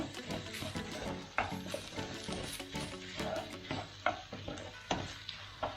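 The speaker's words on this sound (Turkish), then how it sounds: "Şimdi soğanlarımızı da pirinçlerimizle birlikte güzelce kavuracağız." Onions and rice sauté in a pan for a stuffed chicken pilaf, giving a steady sizzle broken by repeated scraping stirs and occasional sharper clinks of the spoon against the pan.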